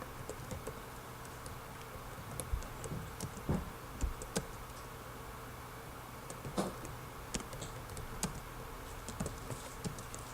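Keys tapped on a computer keyboard while entering symbols and markup, a steady run of light clicks and ticks at close range over a soft background hum, with a few sharper key strikes mixed in.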